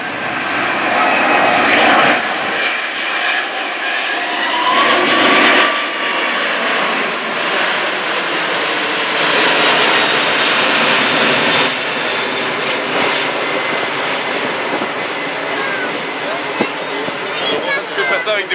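An Airbus A380 airliner's engines thunder at the Airexpo air show in Toulouse, a loud, sustained roar that swells and rolls on for the full stretch, with people talking nearby.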